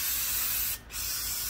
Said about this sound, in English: Now we spray on this side.